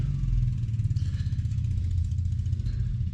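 Motorcycles of a group of bikers setting off in the morning on a Leh road trip from Sarchu, a steady low engine rumble with pulsing throttle, moderately distant and without talk.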